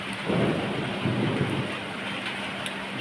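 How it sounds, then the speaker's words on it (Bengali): Heavy monsoon rain with rumbling thunder, a steady hiss of downpour under low, rolling thunder that swells early and again midway, with no voices. "দেখো এদিকে কেমন জোর বৃষ্টি আসছে"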